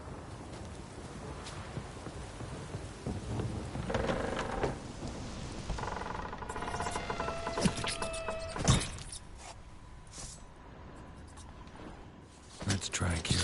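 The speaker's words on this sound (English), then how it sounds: "Storm, damn it." A thunderstorm with rain in The Witcher 3, with steady rain hiss throughout, rumbles and cracks of thunder rising in the middle, and a brief spoken remark over the storm.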